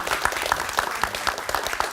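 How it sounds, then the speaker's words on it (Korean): An audience at a lecture event claps after a talk, a brief burst of applause with a few distinct, rhythmic nearby claps standing out. "그럼 박수 주세요."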